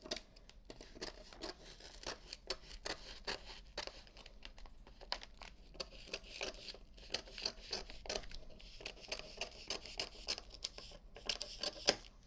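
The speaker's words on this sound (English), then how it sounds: "I'm going to go ahead and cut this backing off." Scissors snip and slice through the backing sheet of a large bridal shower sign, with steady close crinkling and tearing of the plastic film across the whole stretch, no talking.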